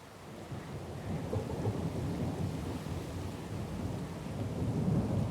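Thunderstorm in Pillars of Eternity 2, with a continuous heavy rumble of rain and thunder rolling steadily throughout, growing slightly louder toward the end.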